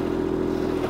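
A tractor stuck on a steep incline churns in four-wheel drive with the diff lock held, its engine droning steadily at a loud, close level as the wheels spin.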